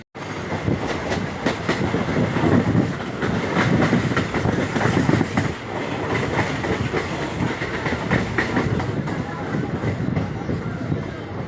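A passenger express train runs on rails near Bandel, bound for Bardhaman en route from Kolkata to Tarapith. Steady rumbling clickety-clack fills the whole stretch, loud and continuous from onboard, with faint voices mixed in.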